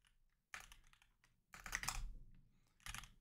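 A terminal command is tapped out on a computer keyboard in quick bursts of clattering keystrokes, close and fairly loud, with short pauses between flurries and no voices.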